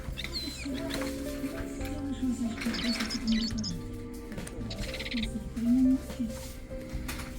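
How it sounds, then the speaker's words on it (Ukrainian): A cat toy bird chirps and warbles in quick repeated bursts in a shop, close by, with a low hum and faint voices underneath. "Я сподіваюся, вам чутно, як пташка цвірінькає."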